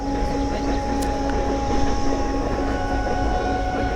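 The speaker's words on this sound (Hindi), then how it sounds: "देखिए क्या लोकल ट्रेन जा रही है।" A local commuter train to Gurugram rumbles past nearby with a continuous rolling roar and a faint steady whine, no voices.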